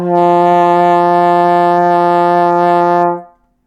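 A single low F trombone note sustained steadily for about three seconds, loud and close, then fading out.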